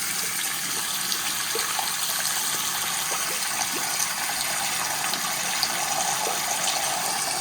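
Water runs steadily from a tap in a home with a failed mixing valve on a Weil McLain boiler, a soft, even hiss of flow with faint clicks and no talking.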